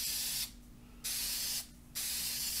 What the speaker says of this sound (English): I like using this gloss lacquer spray and give this about 3, 4, 5 coats